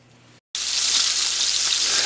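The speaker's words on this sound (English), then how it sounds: "All right, that's starting to sizzle. I'm going to lay these in." After a brief silence, deer steak starts sizzling loudly in a hot frying pan, a steady crackling hiss that continues to the end.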